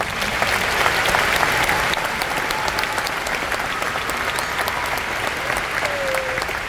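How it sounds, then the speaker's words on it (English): Loud, dense applause from a large audience at a University of Hawaii at Manoa fall commencement ceremony, continuous clapping throughout with a brief whistle near the end. "Please give them all a round of applause."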